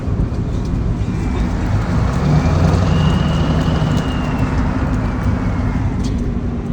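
Ford 7.3 Powerstroke diesel dually pickup truck driving, a continuous loud low rumble of engine and road noise with steady cabin drone, uninterrupted for the whole stretch and no talking.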